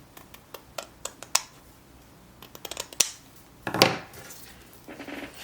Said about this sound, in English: And then we're going to cut one across the top.